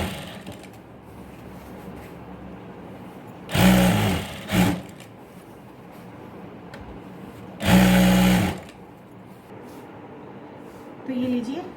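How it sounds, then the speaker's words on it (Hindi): Sewing machine stitching the centre seam of palazzo pants, in two clear runs of rapid whirring stitches and a short burst between them, close and loud over a quiet room. "फिर ऐसे पकड़ेंगे और ऐसे करके सेंटर में सिलाई लगाते जाएंगे।"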